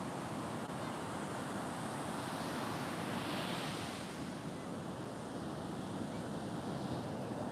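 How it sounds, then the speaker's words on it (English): Heavy ocean surf breaks continuously at a beach where small children ride the waves, a dense, steady roar with some wind buffeting the microphone and no pauses throughout. "Those are heavy waves for someone that small."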